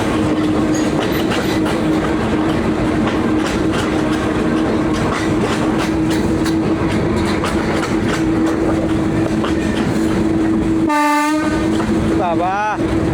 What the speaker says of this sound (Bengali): বাবা এত হুইসেল গাই হচ্ছে